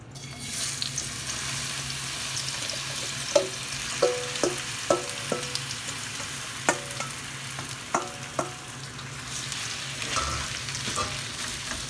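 Sliced green bananas frying in hot oil give a steady close sizzle and bubbling hiss, broken by occasional sharp pops and clinks of a utensil stirring the pan; no voices.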